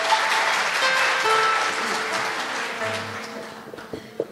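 An audience claps in a dense, sustained burst that gradually thins and fades near the end.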